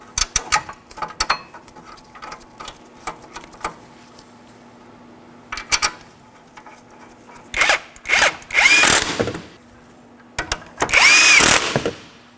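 A power tool drives the brake caliper bracket mounting bolts on a 2013-2019 Nissan Sentra front brake job, close and loud, in short bursts that grow into longer whirring runs, with quiet gaps and small clicks between them.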